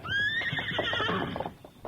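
A great horse neighs loudly in a radio drama, one close, shrill whinny rising and then falling away over about two seconds, with faint hoof clatter under it.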